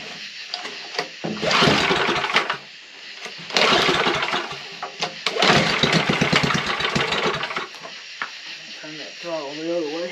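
An old gas generator engine cranks in several loud bursts, sputtering and catching roughly before dying between attempts, with a brief tonal squeal near the end.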